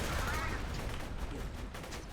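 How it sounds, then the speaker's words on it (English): A grenade blast in the shooter game Borderlands 2, a dense, roaring wash of explosive noise that rumbles steadily at moderate loudness throughout, with no clear single impact standing out. "This grenade is quite powerful."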